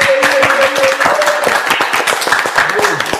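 An audience claps and applauds for Blaze on a Haitian reality show, a dense loud burst of clapping with a voice speaking over it throughout.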